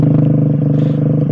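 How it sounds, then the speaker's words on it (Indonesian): Suzuki GSX-R150 motorcycle fitted with a short-neck underbelly exhaust, idling steadily up close with a loud, even engine drone and slight throttle variation. "Jadi motornya itu knalpotnya itu knalpot underbelly."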